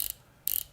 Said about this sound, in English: You can hear it has that distinctive 120 click